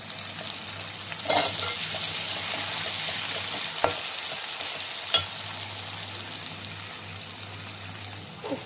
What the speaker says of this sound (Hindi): देखिए अच्छे से भून रहा है ये।